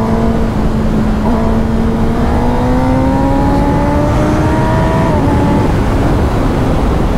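A car engine revs loudly and steadily throughout at a rally, its pitch climbing in long sustained rises with a pause midway and no speech over it.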